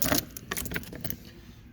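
A bunch of keys jangles and clinks as it is pulled out to unlock a Coleman Light 2715RL travel trailer, several sharp metallic rattles close by, then settling into quieter handling.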